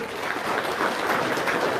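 A crowd of people clapping hands in steady, dense applause, filling the whole moment without any speech.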